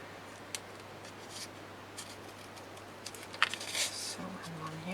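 Scissors snip paper for a handmade mini album, a few quiet, close cuts over a soft room hush, with a brief cluster of crisp snips near the end.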